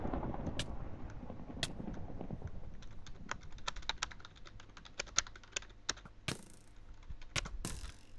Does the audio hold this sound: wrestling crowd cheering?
no